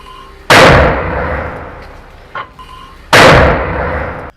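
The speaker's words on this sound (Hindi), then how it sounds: "अल-अक्सा ब्रिगेड ने आईडीएफ के कमांड और कंट्रोल चौकियों पर मोटर गोले दागे हैं" Mortar shells fired at IDF command posts during the war: two sharp, loud launch blasts about two and a half seconds apart, each followed by a long rumbling decay.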